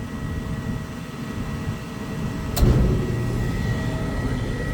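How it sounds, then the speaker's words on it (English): A Trane Voyager rooftop HVAC unit with its blower fan running, a steady broad whooshing drone with low rumble, marked by a sudden click and swell as the fan kicks on midway. "Here goes my blower fan."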